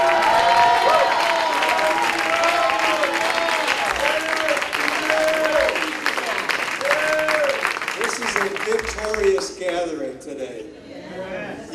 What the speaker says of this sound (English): Clap your hands, all ye people, and shout unto God with a voice of triumph.